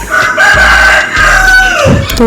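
A rooster at a large farm house crows loudly and close by, one drawn-out call followed by shorter clucking sounds.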